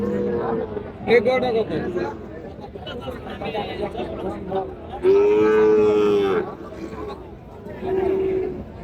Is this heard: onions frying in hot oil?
no